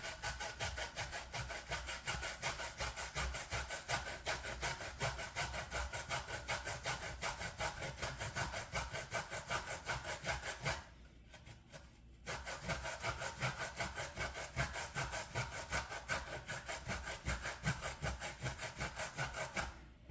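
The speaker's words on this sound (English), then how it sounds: "Grab the coconut like this and begin to grate it." Coconut being grated by hand on a manual grater for a coconut cake, a steady rasping scrape repeating in fast strokes, close and loud, with a brief pause partway through before the grating resumes.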